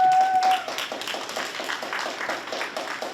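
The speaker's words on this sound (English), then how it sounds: "if we have one more round of applause for our volunteers for today" Applause for volunteers at a town hall literacy event, a steady, moderately loud patter of many hands clapping that carries on evenly after a brief tone at the start.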